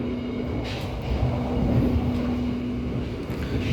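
Interior rumble of the Argo Parahyangan passenger train under way, a steady low roar of wheels on rails with a faint hum, heard from inside the carriage.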